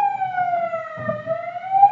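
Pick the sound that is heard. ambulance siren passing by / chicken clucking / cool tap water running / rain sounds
ambulance siren passing by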